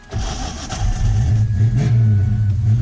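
A Fox Body Mustang with a weak, recently dead battery cranks and catches, its engine running roughly with an uneven, rising mechanical rumble over a few seconds.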